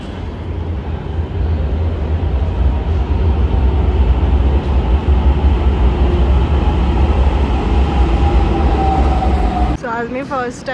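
A metro train runs with a loud, steady low rumble and rising whine, then cuts off abruptly near the end, leaving a brief quieter stretch of station noise.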